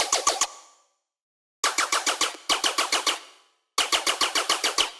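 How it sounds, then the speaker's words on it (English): Laser-like synth bass layer for tearout dubstep, played high, firing in bursts of rapid, evenly spaced metallic pulses like machine-gun fire, with short silences between the bursts. "And here's another bass layer. It sounds like a laser bass."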